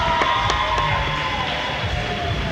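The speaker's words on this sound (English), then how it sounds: "a big round of applause to all these skaters" Arena crowd at a roller derby bout between Seattle Sonic Boom and Atomic City, cheering and applauding steadily at the end of the period, with a dense wash of claps and shouts and a few brief whistles or calls above.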